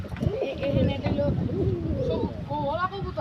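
Pigeons at a home loft, including silver and black-tailed fancy breeds, make soft warbling coos that rise and fall steadily under people talking nearby.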